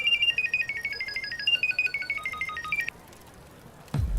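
A telephone ringtone plays loud and close as a bright electronic melody for about three seconds, then stops and leaves a quiet pause before a low thump.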